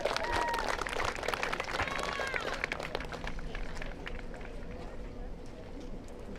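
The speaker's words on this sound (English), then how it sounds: "Let's have another round of applause for number 6," Crowd applause and cheering ring out at a high school baseball senior night for a senior player, loud at first and then tapering, with birds chirping and a voice over it.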